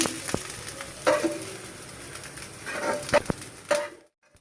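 Onion and boiled okra frying together in ghee in a pan for a mashed egg and okra dish; a close, soft sizzle runs under sharp stirring clicks and scrapes before it cuts off to silence near the end.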